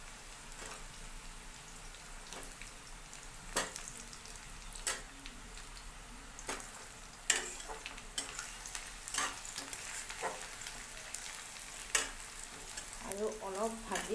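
Potatoes go into a pan of fried onions, making a soft, low sizzle with sharp, scattered clicks and taps from stirring, heard close but quiet throughout.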